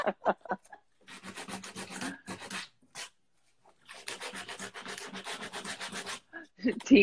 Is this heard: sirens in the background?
no